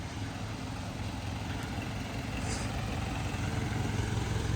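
A 2007 Fuso pressure washing truck driving with its engine needing a valve adjustment, a low rumbling drone that rises slightly partway through, steady and moderately close.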